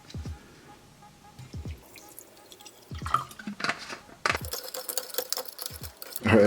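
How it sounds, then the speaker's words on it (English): Water poured into an MRE ration pouch of stewed pork with groats, heard as scattered drips, splashes and crinkling at low volume, growing busier toward the end. "let's get some water in there"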